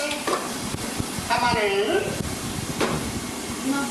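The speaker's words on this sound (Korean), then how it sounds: "자, 볶으면서 간마늘." Minced garlic sizzles while being stir-fried in a pan for a Nagasaki-style white jjamppong, a steady frying hiss with scraping stirs, as a person talks over it.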